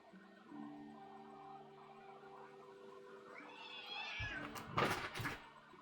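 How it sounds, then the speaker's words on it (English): A video game cat meows repeatedly, with drawn-out calls over a quiet musical background that build to a louder, harsher yowl near the end. "Also, this cat is being very annoying."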